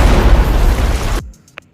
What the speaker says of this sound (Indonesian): Donald pun menarik granat di sampingnya dan meledakkan diri.